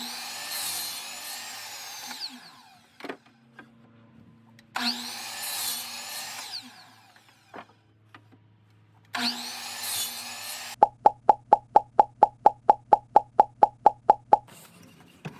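A miter saw cuts wood at an angle in three separate loud whining cuts with quiet gaps between them, then a rapid series of sharp rhythmic taps follows.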